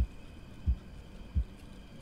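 A game heartbeat pulses steadily, with three soft, deep thumps spaced evenly over a faint background hum.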